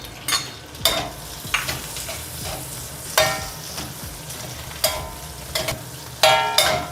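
Pork belly sautés in a pan with minced garlic and dried mushrooms for a stir fry. A steady close sizzle runs under sharp, irregular stirring clacks and scrapes of a utensil against the pan.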